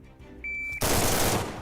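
A rifle in a video game firing a hyperburst: a brief steady tone is abruptly cut off by a loud, dense burst of rapid shots that merge into one continuous blast and then tail off.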